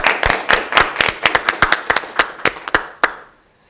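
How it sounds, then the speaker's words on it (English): A few people clap at a virtual charity gala in tribute to frontline heroes, sparse distinct hand claps close by in an uneven rhythm, thinning out and ending with one last clap. "So please join me in giving them a round of applause."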